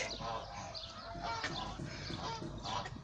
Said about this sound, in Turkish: Alın size yavru yaban ördek.